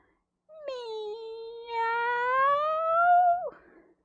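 A human voice imitates a cat's meow during a storytelling performance: one long, rising and falling mew lasting about three seconds, clear and close, with nothing else heard around it.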